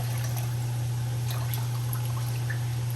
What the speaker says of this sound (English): I'm gonna go ahead and add some lemon juice